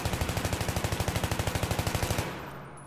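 Rapid automatic gunfire from hipfire in a first-person shooter, a steady burst of evenly spaced shots over about two seconds that stops abruptly and leaves a short fading tail.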